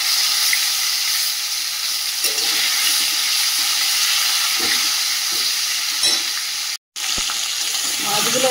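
Large pieces of fish, to be cooked later with potato and tomato, fry in an oil-filled kadai with a steady, dense sizzle and crackle close by, broken by a brief dropout near the end.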